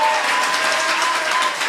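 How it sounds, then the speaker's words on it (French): Dense audience applause at a French church gathering fills the space, a steady wash of many hands clapping loudly for the whole stretch. "n'applaudissez pas, j'aime pas qu'on applaudisse."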